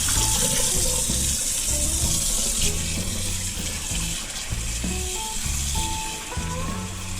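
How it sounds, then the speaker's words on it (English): Tap water runs steadily into a kitchen sink while walleye fillets are rinsed under it, with a constant close splashing and faint clinks throughout. "I rinse them off good in the sink here."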